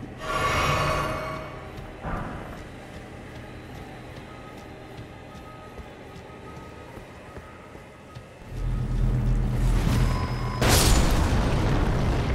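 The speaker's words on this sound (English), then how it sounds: "I can't kill them before they explode." Enemies exploding in the video game Elden Ring, heavy booming blasts at the start and end with a low rumbling game soundscape between.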